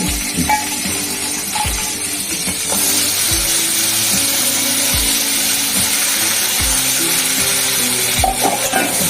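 Small pieces of pointed gourd (potol) fry in a pan with salt, turmeric, black cumin and green chillies, hissing and sizzling loudly and steadily, while a spatula knocks and scrapes against the pan in regular strokes.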